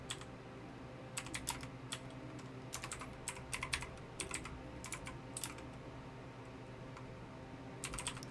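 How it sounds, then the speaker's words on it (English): Quick bursts of keystrokes on a computer keyboard as a short note is typed, clustered in irregular runs with brief pauses, close and crisp above a low steady background hum. "So we'll type this little note for ourselves."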